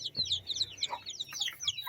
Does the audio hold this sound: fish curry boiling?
no